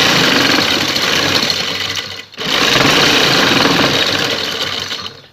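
A sewing machine stitches lace onto a neck design in a fast, continuous mechanical whir, close and loud, pausing briefly midway before running steadily again.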